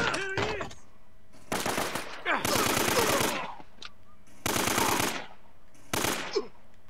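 Bursts of AK rifle fire from the video game Uncharted come in four loud, rapid volleys separated by short pauses, with some brief noises between them.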